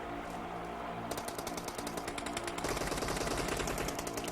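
Rapid automatic gunfire from a scoped gun in the PUBG video game, a dense, steady stream of sharp mechanical shots that grows louder partway through, with no talking.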